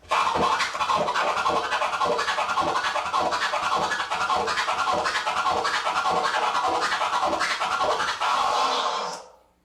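A turntable flare scratch, a loud continuous run of fast clicking, stuttered cuts with a steady rhythm, heard alone until it cuts off near the end.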